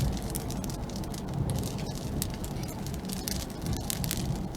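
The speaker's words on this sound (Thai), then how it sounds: "เสียงเม็ดฝน" Steady patter of raindrops striking a hard surface, dense and continuous with a low rumbling backdrop.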